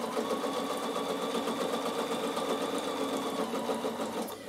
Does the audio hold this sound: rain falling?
no